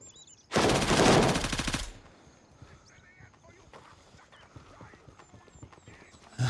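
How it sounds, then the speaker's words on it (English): A loud, close burst of sustained automatic machine-gun fire in the military shooter Gray Zone Warfare lasts about a second and a half, then gives way to quiet ambient game sound. "After I just burned that, like, entire mag into the fence line."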